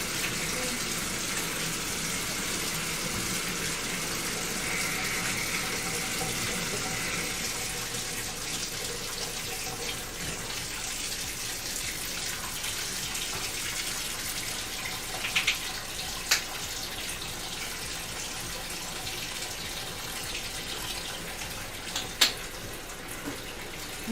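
Tap water gushes steadily into a bathtub filling for a bubble bath, a dense continuous rushing that eases slightly over time, with a few faint knocks and clicks near the end and no talking.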